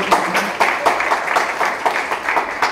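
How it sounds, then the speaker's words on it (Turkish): An audience at an e-commerce talk event in İzmir claps to welcome a speaker named Emrah onto the stage, a dense, steady burst of close applause lasting a few seconds. "Alkışlarla sevgili Emrah'a alalım"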